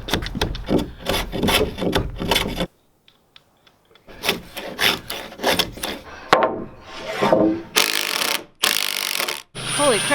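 Large GRK structural screws being backed out of timber framing, a series of loud rasping, grinding bursts from the driver and wood, broken by a short quiet gap, then more grinding and creaking strain.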